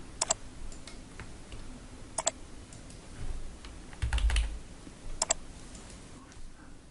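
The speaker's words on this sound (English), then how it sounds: "And if we click it, we can nudge it with the arrow keys." Computer keyboard arrow keys are pressed in a few sparse, crisp clicks spread across several seconds, close but quiet against a faint room hiss, with no talking.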